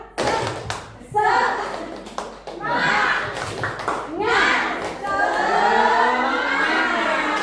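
A group of adults claps in unison for a spirit-boosting cheer at a positive-culture workshop, loud and close, with rhythmic bursts of hand claps mixed with voices calling and chanting along.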